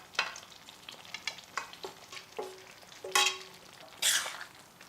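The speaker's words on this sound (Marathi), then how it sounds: "आता यात आपण तळलेल्या या भाज्या घालून द्यायच्या आहेत." Fried vegetables stirred into an oily vegetable biryani masala in a pan, giving soft, scattered sizzles and scraping stir strokes at an irregular rhythm, with a louder sizzling burst near the end.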